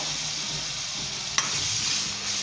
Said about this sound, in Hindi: 2 से 3 मिनट तक मैंने अच्छे तरीके से आलू को मसाले के अंदर ये भून लिए।